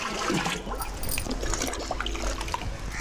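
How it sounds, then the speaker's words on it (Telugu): Ten litres of cow urine poured into a drum holding about two hundred litres of water, mixed with dung paste for a farm tonic; a steady close splashing pour runs throughout with faint outdoor background. "దీంట్లో పది లీటర్ల ఆవు మూత్రం కలుపుకోవాలి"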